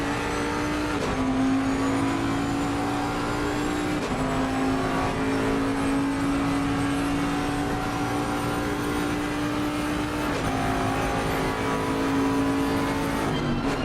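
Bentley GT3 race car in a racing video game, engine droning steadily with rising tones and gear shifts at intervals, loud and continuous without talk.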